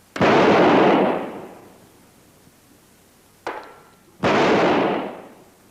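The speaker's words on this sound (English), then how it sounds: "what's a 4th of July without fireworks?" Fireworks go off in three sharp blasts, each a loud crack followed by a long fading rumble and rush, with a short gap between the second and third and no one speaking over them.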